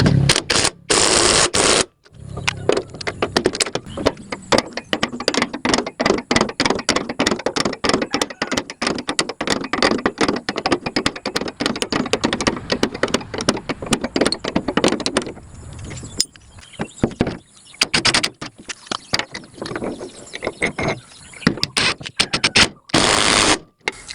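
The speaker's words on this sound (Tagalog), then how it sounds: "nahigpitan na natin yung dalawang tornilyo rito" Screws are tightened with a ratcheting tool on the feeder conveyor of a DC70 combine harvester, a long run of rapid, loud metallic clicks in close range, with brief pauses and bursts of harsher clatter near the start and end.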